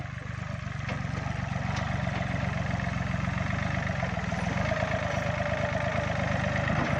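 A farm tractor pulling a disc plough to cut raised furrows between durian trees runs at a steady, close, continuous engine drone with a low rumble throughout and no talking.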